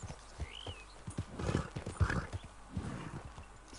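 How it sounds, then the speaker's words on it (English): Horse in Red Dead Redemption 2 whinnies with a rising call while hooves clip-clop in a steady walking rhythm, fairly close and moderately loud, with no talk over it. "Got some mighty pretty horses."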